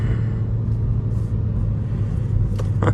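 Hyundai Veloster Turbo with a manual gearbox cruising steadily, a loud continuous low engine and road rumble from inside the cabin with no talk over it.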